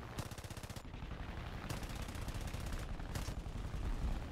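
Rapid bursts of 20mm cannon fire from four nose-mounted guns on a fighter aircraft in War Thunder, loud and close, with distinct stuttering volleys over constant engine roar.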